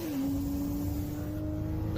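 A stock McLaren 720S accelerates hard in a drag race, a steady droning engine note held throughout at moderate distance, with no voices.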